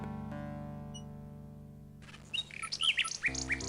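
Bird chirps from the video game King's Quest VI ring out as short bright tweets in a quick cluster, following a sustained electronic tone, with no talk.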